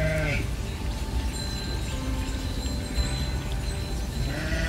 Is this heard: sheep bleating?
yes